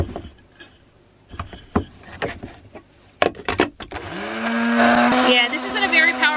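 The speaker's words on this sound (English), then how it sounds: "this isn't a very powerful grinder, and the fact that it's running off my inverter probably doesn't help." After some scattered clicks and knocks, a small blade coffee grinder powered through an inverter starts up and runs with a steady high whine, the coffee beans rattling inside.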